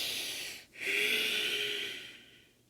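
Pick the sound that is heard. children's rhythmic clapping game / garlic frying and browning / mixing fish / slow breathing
slow breathing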